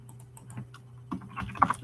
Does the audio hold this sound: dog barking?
no